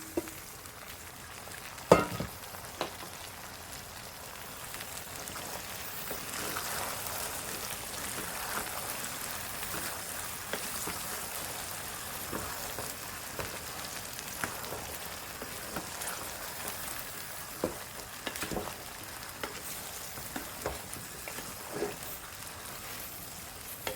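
Dried jujubes (boroi) frying in oil for a pickle, a steady soft crackle and hiss running the whole time with scattered louder pops, close and moderately quiet.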